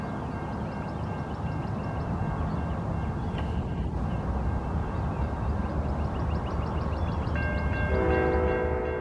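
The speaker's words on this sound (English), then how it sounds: "The next train of the morning was Amtrak 71, the Piedmont service." Amtrak 71 Piedmont passenger train passing at a Salisbury, North Carolina rail yard, a steady loud rolling rumble with wheel and rail noise throughout and a tonal horn sounding near the end.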